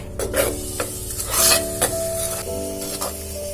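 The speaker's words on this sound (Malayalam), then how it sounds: "അരപ്പൊന്ന് തിളക്കട്ടെ." Coconut paste bubbles and sizzles in a pan for a ripe mango curry, a close, steady hiss broken by several stirring scrapes against the pan.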